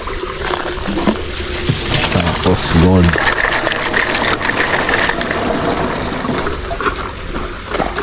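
Water sprayer hissing steadily over plants outdoors, a continuous broadband spray sound running through most of the stretch, partly under people talking.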